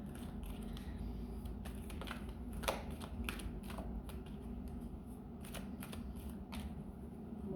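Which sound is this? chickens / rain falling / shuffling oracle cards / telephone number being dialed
shuffling oracle cards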